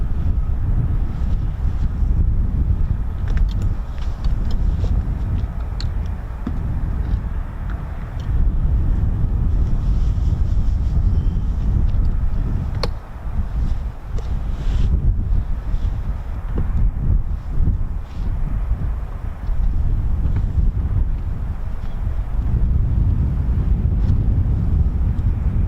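Strong wind buffeting the microphone at an RAF airfield during an F-35B display, a continuous loud low roar with gusty swells and no clear aircraft sound above it.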